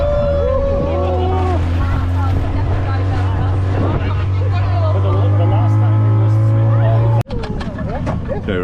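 A small motorboat engine on the Red Sea off Hurghada, Egypt, holds a loud, steady low drone with wind noise. Voices and chatter sit over it until a sharp knock cuts the sound near the end.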